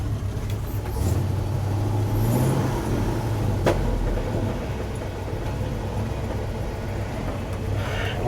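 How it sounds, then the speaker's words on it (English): A 1967 Ford F600 truck creeps along in low reverse gear, its engine a steady low rumble throughout with a slight swell in the first seconds and a brief knock partway through. "Reverse is so low in either of the rear ends that you really just let off the clutch and let it creep."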